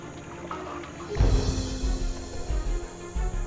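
People wading across a river near a mining area in Indonesia as the water deepens to waist height, with splashing and churning water that grows suddenly louder partway through and continues in uneven surges.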